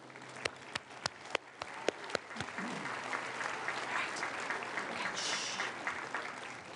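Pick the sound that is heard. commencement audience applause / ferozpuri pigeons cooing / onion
commencement audience applause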